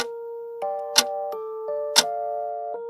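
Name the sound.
old clock ticking in the distance, horror story effect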